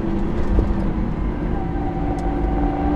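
A Lamborghini Aventador SV Roadster's engine sends a steady, loud low rumble of driving noise through the whole stretch, with a faint higher tone running underneath.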